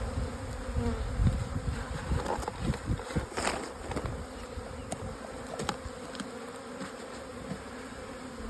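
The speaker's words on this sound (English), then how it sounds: "these bees are marching up" Honey bees buzz steadily around an open hive box during a colony inspection, a dense close swarm drone with individual insects flitting past, loud and continuous with no talking.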